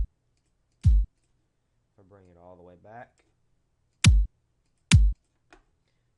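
Three short punchy kick drum hits, spaced unevenly and clipped clean, with a brief stretch of speech between the first and second.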